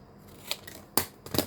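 Scissors trimming paper for an ephemera folder made from packaging: two or three quick, close, crisp snips within a second and a half, with no talk.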